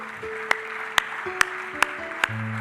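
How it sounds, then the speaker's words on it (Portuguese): Sparse, regular claps from a church congregation at a Portuguese-language service, about five sharp hand strikes roughly half a second apart, over a soft sustained background tone. "Você pode aplaudir a Deus."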